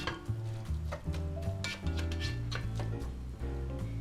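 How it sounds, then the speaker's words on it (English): Tomatoes simmer in their own juice for a Bolognese sauce, a soft bubbling sizzle with occasional spoon-and-pan scrapes and taps, beneath steady background music. "we want it to simmer in the tomato juice"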